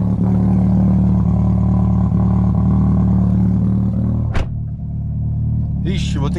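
A car engine, freshly ECU-remapped, turns over from cold and settles into a loud, steady low rumble with a sharp click near the end and a brief higher whir after it.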